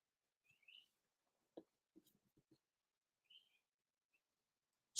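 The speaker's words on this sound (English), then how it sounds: "right now, the sounds you hear, that's a bird." Faint, sparse bird chirps scattered across quiet surroundings, with a few soft clicks and taps in between.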